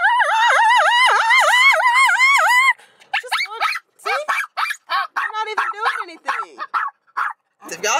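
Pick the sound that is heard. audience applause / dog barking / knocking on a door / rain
dog barking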